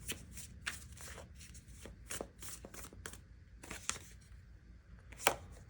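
Deck of tarot cards being shuffled, quiet close riffling and flicking bursts in an irregular rhythm, with a few sharper snaps as cards slap together.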